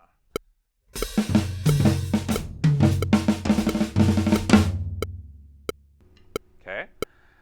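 A snare drum plays a fast sticking pattern on a duple grid, from a drum solo. The dense run of strokes lasts about four seconds, framed by a few isolated clicks before and after.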